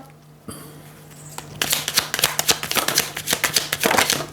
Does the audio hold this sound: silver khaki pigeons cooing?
no